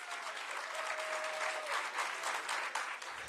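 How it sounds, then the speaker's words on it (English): An audience at an indoor talk claps together, a dense, steady wash of applause that holds loud and even for over three seconds before thinning slightly at the end. "Let's clap."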